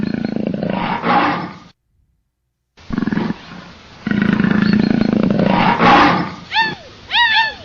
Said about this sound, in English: The pandas run away when they hear the leopard roar